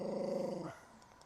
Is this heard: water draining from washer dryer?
no